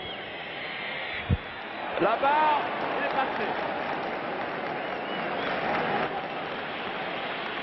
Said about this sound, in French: McGill, sous les hurlements de la foule.